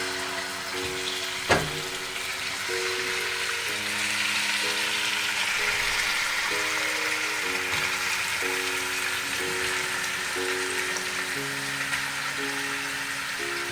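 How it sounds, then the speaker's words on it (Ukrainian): Steady sizzling and crackling of meat frying in hot lard in a pot for pilaf, with a faint tune playing softly underneath and no talking. "я додаю м'ясо і буду м'ясо обсмажувати"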